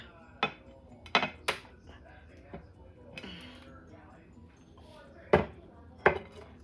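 A pineapple upside-down cake pan flipped over onto a plate in a kitchen, giving a few sharp metallic clacks and knocks spread through a quiet stretch, with soft handling noises between them.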